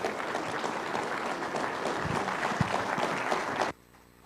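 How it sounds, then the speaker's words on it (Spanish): Crowd at an evangelistic campaign gives strong, sustained applause welcoming a pastor, dense clapping filling the space before stopping abruptly near the end. "invitamos con fuertes aplausos"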